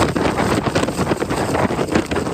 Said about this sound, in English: Wow, some pretty strong winds,